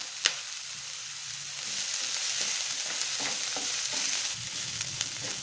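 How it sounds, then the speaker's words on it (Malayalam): Cashew nuts and grated ginger sautéing in a pan for a vegetable dosa filling, a steady hissing sizzle with a few soft clicks and scrapes of stirring, close and continuous with no talking. "ആ സമയത്ത് നമുക്ക് കാഷ്യൂ നട്ടും ഇഞ്ചിയും കൂടെ ചേർത്ത് കൊടുക്കാം. ഇത് രണ്ടും ചേർത്തതിന് ശേഷം 1 മിനിറ്റും കൂടെ വഴറ്റാം."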